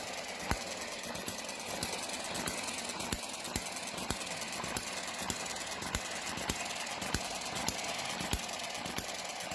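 A small model hit-and-miss stationary engine runs steadily nearby, giving a fast, even mechanical chatter with sharp periodic knocks as it fires and coasts.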